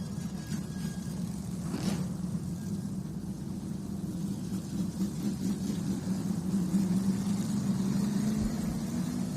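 Stock car at Riverhead Raceway during an NWMT race, a steady low engine drone held at a constant level throughout, moderately loud with a faint whine on top.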